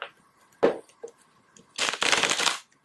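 Tarot cards being shuffled by hand close up: a quick riffle, then a longer dense burst of flapping, fluttering cards, in a quiet room with no talk.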